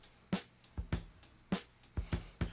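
A mixed boom bap beat plays back quietly, with punchy kicks and crisp snares in a steady hip-hop groove and no voices.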